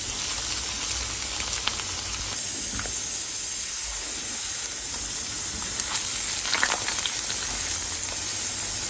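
Food frying in a pan of plenty of oil at medium heat for a Lenten recipe: steady, close sizzle and hiss throughout, with occasional louder pops and crackles.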